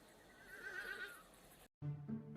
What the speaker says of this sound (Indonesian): Nabi Sulaiman alaihissalam mempunyai banyak sekali kuda